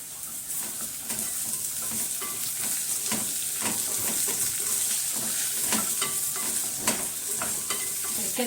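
Okra sizzles and fries steadily in a hot pan for an okra, potato and meat tagine, with constant crackling hiss and scattered stirring scrapes and clinks.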